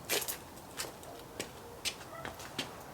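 A cat gives a few short, faint meows spaced through a quiet room, soft and close but low in level, with no one talking.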